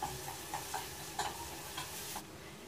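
Sliced onion sautéing in butter in a pan: a soft, low sizzle under a light, regular tapping of a spoon stirring, faint and close, with no voices.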